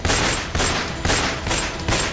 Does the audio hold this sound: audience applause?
no